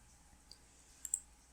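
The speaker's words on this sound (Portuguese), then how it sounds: "posiciono ela aqui com um simples clique do mouse" Computer mouse clicks while a component is placed in circuit simulation software. A few faint, sharp clicks sound close together near the end, with a smaller tick earlier.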